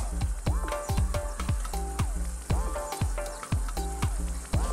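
Carrots and beans sizzle and fry in a hot pan for gisadong bihon, a steady crackling hiss broken by repeated rhythmic scraping and clanks of stirring, close and moderately loud.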